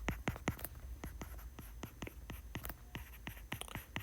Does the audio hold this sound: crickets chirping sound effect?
no